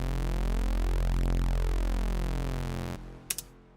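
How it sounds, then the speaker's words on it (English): A basic synth wobble wave, phased and EQ'd, gives a thick buzzing tone whose sweeping phaser notches glide down and back up for about three seconds, then cuts off, followed by a couple of faint clicks. "So it's a very basic phased EQ'd wobble"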